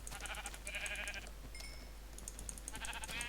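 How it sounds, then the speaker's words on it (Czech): Minecraft sheep give short, quavering game bleats, several in a row against a steady low hum, with a brief electronic tone partway through. "jsou tu pěkné stromy a jsou tu hlavně ovce"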